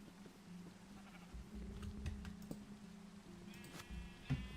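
Sheep bleating in Minecraft, a few faint short bleats over a quiet low game hum, with light clicks and a small thump near the end.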